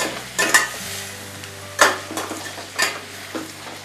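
A spoon stirs an onion tempering frying in a pan for potato curry. Three distinct scraping strokes cut through a steady low sizzle, close and with no talk.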